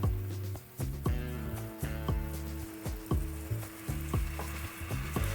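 Besan kofta curry masala sizzles softly in a pan while a spoon scrapes and stirs it in a steady rhythm of repeated strokes, each one a short knocking scrape over a continuous fry.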